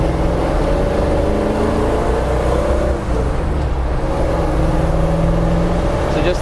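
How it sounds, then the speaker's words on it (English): A 1968 Ford Bronco with a Windsor V8 driving under light throttle, a loud steady low engine drone heard from inside, with one brief dip around midway. "Just light throttle, pulls nice and easy."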